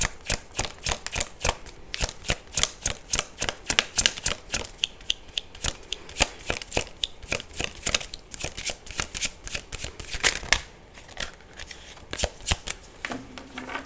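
A deck of tarot cards is riffled and shuffled in a long run of crisp, rapid flutters and slaps, close and fairly loud, with short pauses between bursts and no talking.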